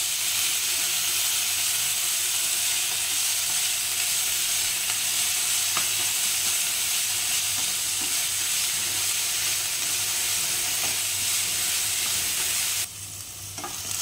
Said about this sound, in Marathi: छान परतून घ्यायचा, गॅस मंद ठेवायचा हे सगळं करताना।